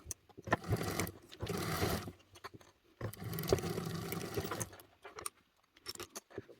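A sewing machine stitching a 3/8-inch seam along the short edge of a fabric travel organizer, running in two sustained bursts of rapid whirring with quieter handling clicks between and after them.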